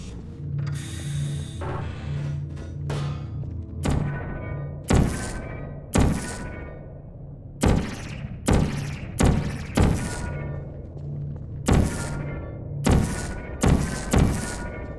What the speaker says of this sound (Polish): O, patrzcie, kostka może nam spaść na głowę.